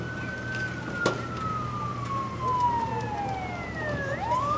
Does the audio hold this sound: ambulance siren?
yes